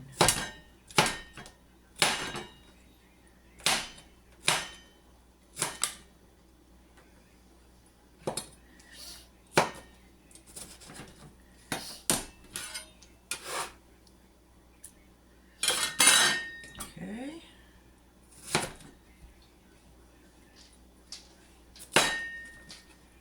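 A metal scraper strikes and chops salsa in a pan during home salsa making for canning, giving sharp, loud clanks and knocks in an irregular rhythm, sometimes in quick clusters, with brief pauses between.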